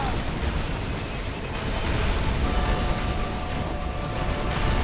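An Apocalypse tank blowing up amid a Red Alert 3 battle, heard as a dense, continuous roar of game combat noise with booming blasts and bursts, loud and sustained throughout.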